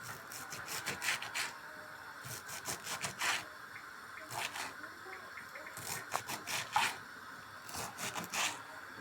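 A knife chopping washed dill on a cutting board: rapid bursts of quiet, close tapping strokes in uneven clusters with short pauses between, over faint background noise.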